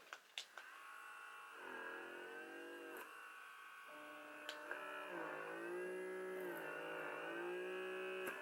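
A small electric blackhead vacuum fitted with its smallest tip suctions the skin around the nose, giving a faint steady buzzing whine whose pitch dips and shifts as the suction catches, with a few light clicks.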